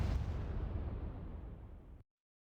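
Explosion in Command & Conquer: Renegade, a single loud broadband blast with a rumbling tail that holds steady for about two seconds, then cuts off abruptly into silence.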